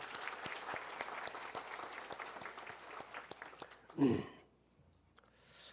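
A church congregation applauds a visiting family from Australia: a few seconds of moderately distant clapping, then a brief voice and near silence as it fades out.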